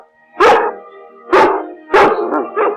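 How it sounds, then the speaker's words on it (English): A dog in a film scene gives three loud, close barks, evenly spaced, with a shorter yip trailing the last one, and no voices. "Or the dog barks in his subtitles."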